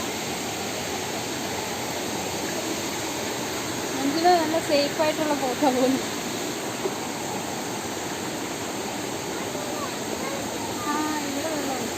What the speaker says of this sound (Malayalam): അതിൽ കൂടെ വെള്ളം ഒഴുകുന്നുണ്ട്.